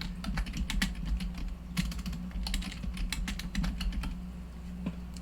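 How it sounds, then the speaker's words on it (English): Steady computer keyboard typing with rapid close key clicks and a few heavier keystrokes like backspace presses, continuous and alone over faint room hum. "you might need to delete what's there by clicking and dragging and pressing backspace."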